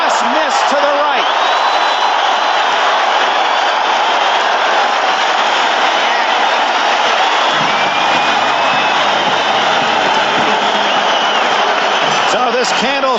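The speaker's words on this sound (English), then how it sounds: "this Candlestick crowd, as Benirschke misses from 50, realizes a touchdown would tie it" A large crowd at Candlestick Park roars loudly and steadily after a missed 50-yard field goal in a 1982 Chargers at 49ers NFL game, a dense wash of voices that carries on without a break.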